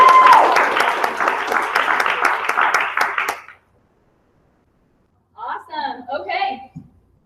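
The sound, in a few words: audience applause at training event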